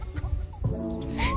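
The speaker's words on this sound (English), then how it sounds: "We move these chickens." Free-range chickens cluck steadily outdoors, several birds close by with overlapping low clucks and no talking.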